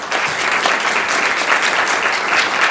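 An audience at an evening Santa Cruz political forum on District 1 and Measure M claps steadily for two speakers, a dense, even round of applause filling the room with no voices over it.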